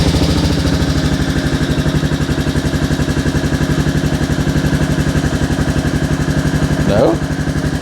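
A Royal Enfield Classic 350 Reborn engine idles close by with a steady, even thumping pulse, with a brief voice near the end.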